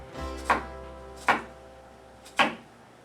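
A knife slices through an onion on a cutting board in three separate, crisp cuts spaced about a second apart, close and distinct against a quiet kitchen background.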